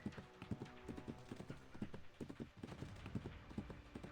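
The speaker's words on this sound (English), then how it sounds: "The striped horse with its red mane charges through the pouring rain," A striped, red-maned horse from the game Reverse 1999 gallops through pouring rain, its hooves beating a steady, quick clip-clop rhythm that stays close and even throughout, with no talking.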